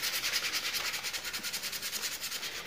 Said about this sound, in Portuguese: Essa lixa aqui é uma lixa 220, galera. Uma lixa bem fininha, uma lixa pra ferro